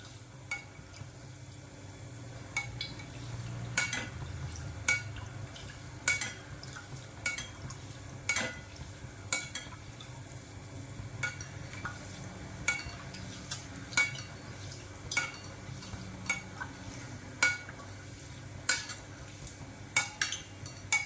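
Anarse, traditional Maharashtrian sweets, fry in hot oil while oil is ladled over them from above, giving a steady soft sizzle with frequent sharp clicks of the ladle against the pan, close and quiet, no talk.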